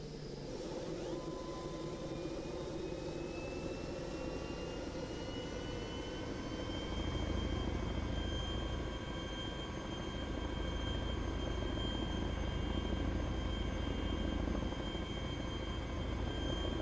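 A Chinook helicopter in the video game DayZ Epoch gives off a sustained turbine whine over a dense rotor roar, and the low rumble grows louder and heavier about halfway through. The sound is continuous, with no clear talk.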